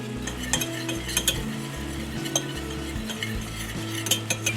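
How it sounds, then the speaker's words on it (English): A spoon stirs a flour roux in a pan with repeated soft scraping and light metallic clinks against the pan, steady and close, with a faint sizzle beneath and no voices. "we're going to stir it until it's a light peanut color brown"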